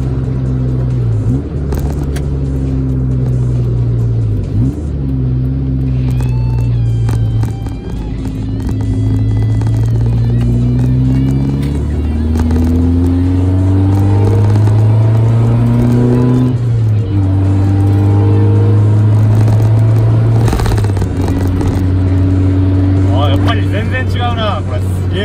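A Mazda NA Roadster fitted with a shift sound-deadening disc pulls up through the revs, its exhaust note rising in long sweeps and dropping at each gear change, loud and close, with talk at times.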